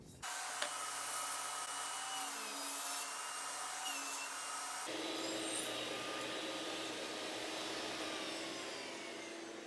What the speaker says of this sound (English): So now I'm going to go and cut the same exact half lap on the other pieces.